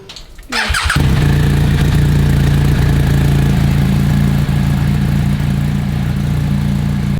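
A motorcycle engine catches after a brief start-up burst and settles into a steady, loud, close idle that holds for the rest of the span, with no talk over it.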